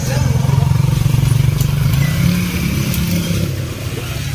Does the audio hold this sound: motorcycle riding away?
yes